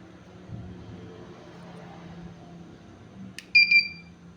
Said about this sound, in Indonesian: Kita dengar barusan berbunyi beep 2 kali ya, cepat ya.